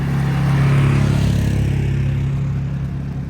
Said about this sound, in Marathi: अशा ATV बाईक पण असतात इथे